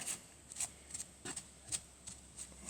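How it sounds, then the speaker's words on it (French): Homemade wood filler paste is worked with a spatula, giving a series of soft, close scraping and squishing strokes in an irregular rhythm, quiet and alone. "Et là, on n'a plus qu'à mélanger."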